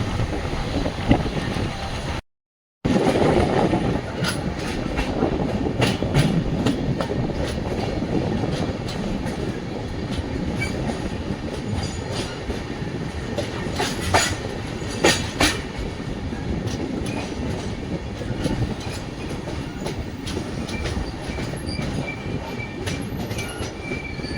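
The Hampi Express passenger train runs steadily near Annigeri station, a continuous loud rumble of wheels and carriages with rhythmic rail clatter, occasional squeals and wind buffeting the microphone, and a brief dropout near the start.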